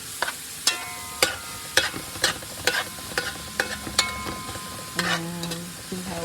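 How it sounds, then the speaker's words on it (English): Spoon scraping and stirring Louisiana Cajun chicken sausage gumbo in a pot, a steady series of sharp clinks and scrapes about twice a second, close and clear with faint sizzling beneath. "You're going to stir it around a little bit more."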